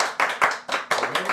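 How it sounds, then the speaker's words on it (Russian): A small group in a speaking class claps for a classmate in short bursts, several rounds of scattered hand claps separated by brief pauses. "Стоп, еще раз. Аплодисменты другу."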